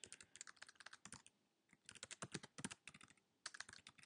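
Fingers tap an email address into a login field on a computer keyboard, several quick bursts of clicking keystrokes separated by short pauses, close and alone.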